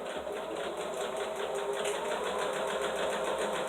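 A sewing machine stitches a fabric draft stopper, back-stitching to lock the seam, with a steady rapid whirring chatter that runs unbroken at moderate volume with no talking.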